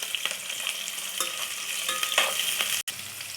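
Onions and slit green chillies with a pinch of salt frying in a pan for veg biryani, a steady close sizzle with light stirring scrapes and no talk.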